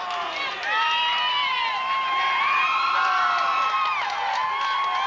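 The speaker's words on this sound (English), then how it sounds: "Ryan Foley, that's who they're cheering for" New Trier fans cheer loudly at the 1999 IHSA boys swimming state finals, a dense, sustained roar of many shouting voices in an echoing natatorium that stays near and full for the whole stretch.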